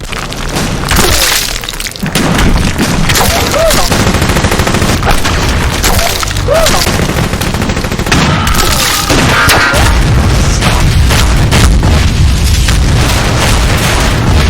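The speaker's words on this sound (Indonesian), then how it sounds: "Baku tembak terjadi." Loud, relentless gunfire from a film shootout rattles in dense bursts mixed with heavy booms, filling the whole stretch without pause.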